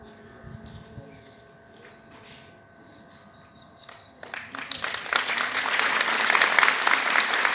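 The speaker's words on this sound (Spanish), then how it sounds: "Fuerte que se escuche ese aplauso para estos niños" Applause from an audience for the children after a primary school play, starting quiet and swelling into dense, sustained clapping partway through, with some voices underneath.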